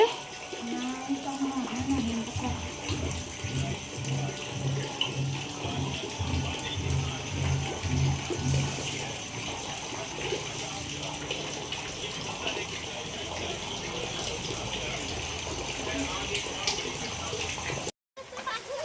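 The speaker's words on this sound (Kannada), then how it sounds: "ಮನೆಯಲ್ಲಿ ನೀರು ತುಂಬೋಗಿದೆ ಬಕೀಟಿಯಿಂದ ಎತ್ತು ಆಚೆ ಹಾಕ್ತಾ ಇದ್ದಾರೆ" Floodwater from heavy rain in Rehmat Nagar, Kolar is bailed out of a house with a bucket, giving continuous sloshing, pouring and gushing water nearby, with voices talking over it.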